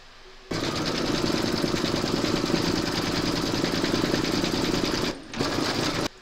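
An embroidery machine stitches a coaster design with a fast, even mechanical chatter, close and steady, pausing briefly near the end before resuming, with no talking.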